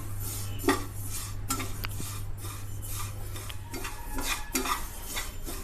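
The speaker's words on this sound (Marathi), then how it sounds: "तर आता आपले तीळ छान असे भाजून झालेले आहेत" Sesame seeds are roasted and stirred in a pan for til ladoo, with dry scraping and clinking of a spoon or spatula against metal in irregular strokes under a steady low hum, with no talk.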